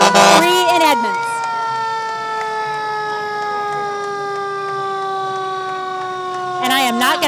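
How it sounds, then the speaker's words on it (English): Fire engine sirens wail loudly and steadily during an Edmonds Fourth of July parade in 2014, a sustained blaring tone with voices briefly heard at the start and end. "I am not going to try to talk over some of those sirens. I'll just let people listen."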